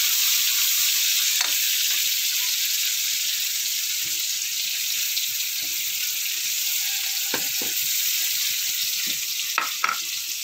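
Fish steak sizzles steadily in a hot pan, a constant bright hiss with occasional sharper pops and crackles, close and uninterrupted with no talking.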